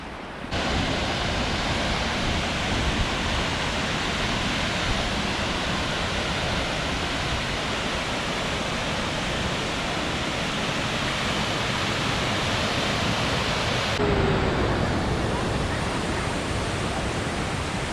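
A waterfall on the Tortum-Uzundere route in Erzurum roars as a steady, loud, close broadband rush of falling water that continues unbroken throughout, with no talking.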